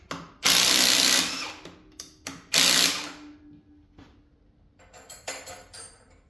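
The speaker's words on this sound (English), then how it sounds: "Got the frame shroud off, and I'll take these bolts out." Bolts are removed from a large electric motor's frame during scrapping for copper, with two loud mechanical bursts followed by shorter clicks and rattles at close range, separated by quiet gaps.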